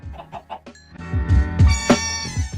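Chickens cluck in short bursts in Minecraft, then a louder squawking flurry, with a steady synthetic game-like tone underneath.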